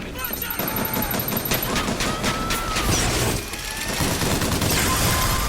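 Rapid, sustained crank gun fire from the Bioshock Infinite video game, a dense clatter of shots lasting throughout with brief bright metallic pings near the start and a short dip in the middle.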